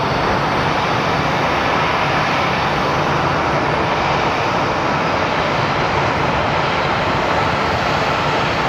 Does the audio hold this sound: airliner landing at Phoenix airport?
yes